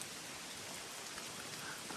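Steady rain hisses down evenly in a forest, a soft continuous patter with no voices.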